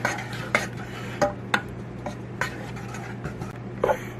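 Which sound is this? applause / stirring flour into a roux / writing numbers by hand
stirring flour into a roux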